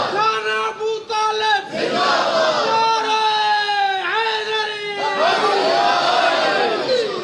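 A crowd at a Jashan religious gathering in Taunsa Shareef chanting slogans in unison, loud, sustained voiced calls rising and falling in waves across the whole stretch, close and dense.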